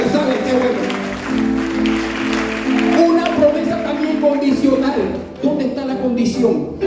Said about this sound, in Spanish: Denle un aplauso, aleluya.